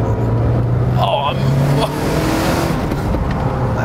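A Lancia Delta Integrale Evo II rally-bred hatchback revs hard while being driven, its engine note climbing near the microphone as someone talks briefly over it.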